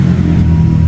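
A Honda Civic Turbo fitted with an aftermarket center-exit exhaust gives a loud, brief, deep and steady engine drone, heard close up for under a second with no talking.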